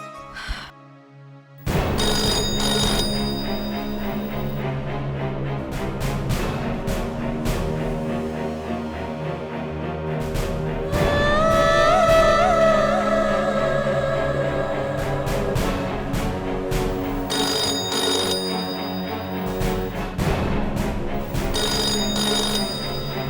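A telephone rings over and over in an indoor household, the repeated bursts going unanswered. Heavy music and background sound run under the rings.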